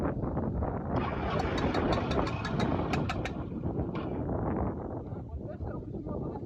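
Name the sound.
motorcycle engine knocking, strange noise from the back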